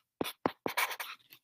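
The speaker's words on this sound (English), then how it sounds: "I'm going to write it down for you." Marker or chalk strokes on a board, a few short scratchy swipes in quick succession, close and clear with no talking.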